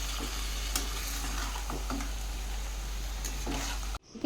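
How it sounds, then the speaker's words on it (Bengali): Chicken being sautéed and stirred in a pan gives a steady close sizzle with intermittent stirring scrapes, cutting off abruptly near the end. "এদিকে চিকেন কষা হচ্ছে"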